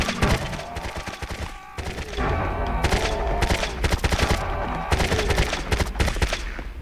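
Uzi gunfire in the video game Serious Sam: Next Encounter, with dense rapid bursts of shots in several loud runs, each separated by short gaps.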